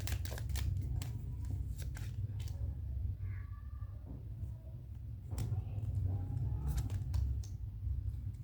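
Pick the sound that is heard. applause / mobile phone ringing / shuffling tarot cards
shuffling tarot cards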